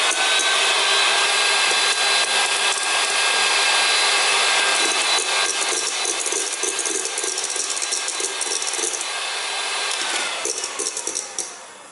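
An electric mixer whips egg whites and sugar into meringue with a loud, steady buzzing whir close by, easing slightly toward the end.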